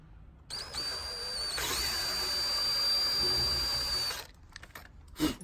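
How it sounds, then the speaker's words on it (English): A small drill whines at a steady high pitch for a few seconds, close and fairly loud, drilling a Mercedes R107 SL door moulding, then winds down, followed by a brief clunk. "We're starting off with a very small drill bit"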